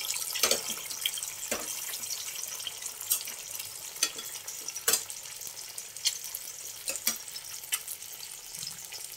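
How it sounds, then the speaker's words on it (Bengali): Two eggs frying in a hot wok (kadai), seasoned with a pinch of salt and pepper powder, give a steady close sizzle with scattered sharp crackles and pops throughout, no talking. "আলাদা করে ডিমটা ভেজে নেব"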